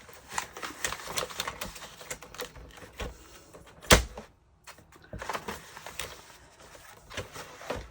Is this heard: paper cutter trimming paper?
yes